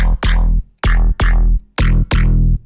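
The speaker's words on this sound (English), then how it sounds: "you get a nice clean tonal pluck, and you can get it with any wavetable that you have" Serum synthesizer bass pluck built from a wavetable, five clean tonal plucks in a quick, even rhythm, each with a sharp attack and a short, bright decay, loud and alone.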